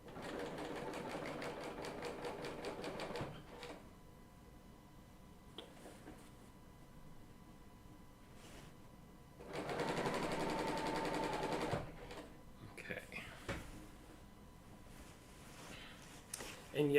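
A Bernina L890 serger stitching fabric in two rapid, even mechanical runs of a few seconds each, separated by quieter pauses with small handling clicks, close and moderately loud.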